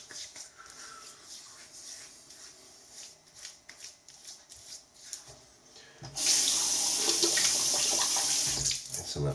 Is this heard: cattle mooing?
no